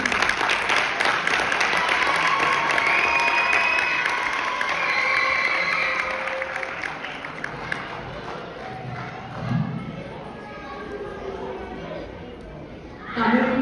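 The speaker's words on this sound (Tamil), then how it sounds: "சஞ்சனாவுக்கு பெரிய கைத்தட்டல் கொடுத்தார்" Audience applause at a Tamil language event: dense, steady clapping mixed with crowd chatter that thins out after about six seconds, with voices continuing underneath.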